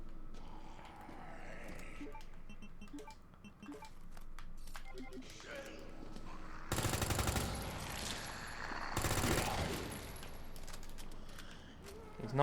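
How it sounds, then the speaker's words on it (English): Machine gun fire in the Resident Evil 2 remake on Hardcore difficulty, heard as dense, loud bursts that crackle across the second half over game sounds, with someone talking through much of it. "this guy's going to have to be cut down to size with the machine gun"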